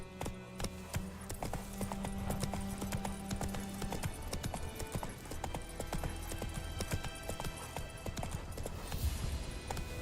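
Horse hooves clip-clop at a steady trot in The Witcher 3: Wild Hunt, a dense rhythmic beat of hoof strikes close by, with a faint whinny and low game ambience under it.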